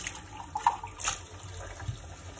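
Tap water runs softly into a sink while mugs are washed by hand, a faint steady trickle with small clinks and splashes.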